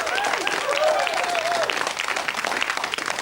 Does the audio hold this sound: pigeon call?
no